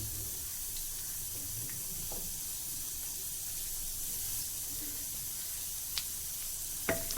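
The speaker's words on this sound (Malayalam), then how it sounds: "ആ കറിവേപ്പില എണ്ണയിൽ കിടന്നൊന്ന് മൊരിഞ്ഞ് വരട്ടെ." Curry leaves frying in hot coconut oil in a pan, a steady dense sizzle and hiss with a few faint clicks near the end.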